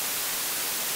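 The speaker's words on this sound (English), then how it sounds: "That's white noise." White noise from an ARP 2600 V synthesizer, a dense, even broadband hiss held steady and alone for about a second.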